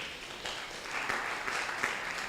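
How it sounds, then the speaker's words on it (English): Applause from an audience, a steady wash of clapping that swells slightly midway, moderately loud, with no talking over it. "Give him a round of applause."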